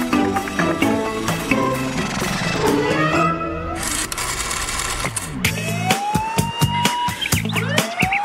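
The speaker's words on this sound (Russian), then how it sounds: "Школьная пожарная сигнализация постоянно включается, и Фрэнк не может выяснить, почему." Cartoon school fire alarm going off over background music, a warbling electronic tone that sweeps up and down, with other musical sounds around it.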